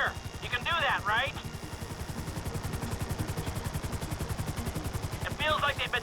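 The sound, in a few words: helicopter hovering in video game Grand Theft Auto V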